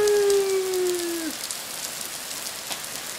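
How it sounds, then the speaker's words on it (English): Steady rain hissing and pattering on a surface, a dense even wash of drops with a sliding tonal whoop at the start. "Oh no, it's raining!"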